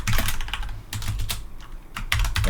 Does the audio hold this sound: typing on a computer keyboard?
yes